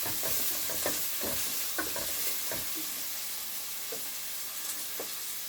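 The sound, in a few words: onions frying and being stirred in a pan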